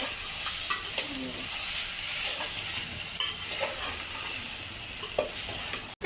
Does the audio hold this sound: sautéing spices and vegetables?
yes